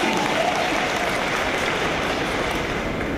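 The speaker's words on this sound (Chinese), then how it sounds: "开场用台语获得满堂笑声及掌声" An audience in a large hall gives dense, steady applause at a National Taiwan University graduation ceremony during Jensen Huang's commencement speech. The clapping holds at an even level throughout.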